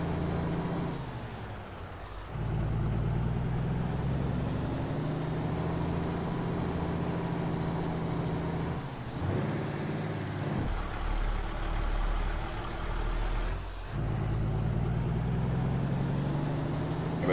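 A truck engine drones steadily while the rig turns tight circles doing donuts, its pitch rising and falling through gear changes, with short hissing air-brake releases at a few points.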